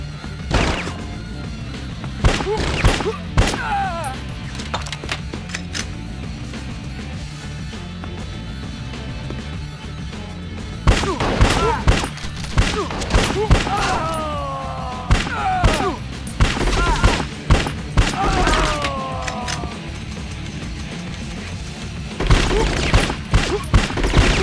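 Gunfire in the video game Bad Boys: Miami Takedown, scattered loud shots and bursts amid music and effects, with character voices between volleys and a dense exchange in the second half.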